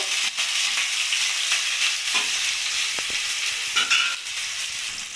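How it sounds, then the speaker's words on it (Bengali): Cut tomato pieces fry in a kadai with a bright, constant sizzle, while a few stirring scrapes and taps rise above it nearby. No one speaks. "টমেটোটাও আমি ভেজে নেব"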